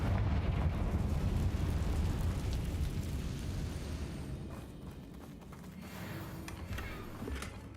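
A Confringo blasting spell explodes in the Hogwarts Legacy video game, a heavy rumbling blast that rolls on and slowly fades, followed by lighter crackling debris.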